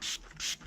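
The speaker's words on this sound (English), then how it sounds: "So I'm going to give it a pretty liberal spray" Two short bursts of filter cleaner sprayed from an aerosol can onto a dirty air filter, each a close, breathy hiss with a brief pause between them.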